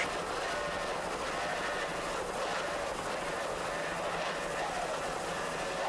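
Twin turbo 2.5 EFI outboard engines on an offshore racing powerboat at the 1993 International Offshore Challenge, a continuous loud roar that holds steady throughout with no break.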